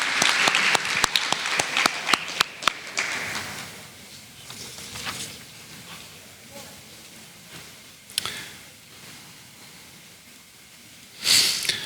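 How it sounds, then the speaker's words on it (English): An audience at a 2025 Seminole County Sports Hall of Fame awards night applauds an inductee: a burst of clapping up front that thins into scattered claps and room noise, with a brief louder flare near the end. "please, let's give a round of applause to Graham Zusi, 2025 male athlete inductee into the Seminole County Sports Hall of Fame"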